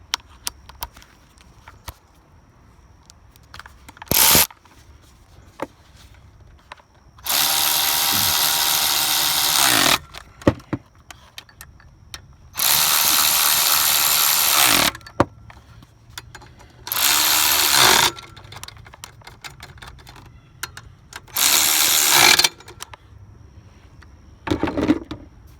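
Power tool tightening an alternator bolt on a 2003 Ford Crown Victoria, with several loud bursts of whirring, each lasting one to three seconds, separated by quieter pauses with small clanks nearby.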